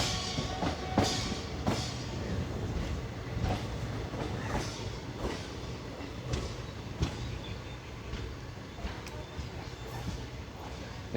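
Steady rumble of the diverted 16512 Kannur Bengaluru Express passenger train underway near Erode Junction, its wheels clattering over rail joints in a regular rhythmic beat, heard close from inside the coach.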